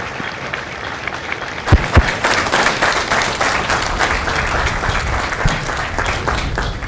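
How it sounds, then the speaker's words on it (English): Applause from the audience at a Marine Corps recruit graduation ceremony at MCRD San Diego, honoring Marine veterans. It is a steady, loud wash of many hands clapping for several seconds, with a couple of sharper claps standing out near the start. "a round of applause for their dedicated service to Corps and country"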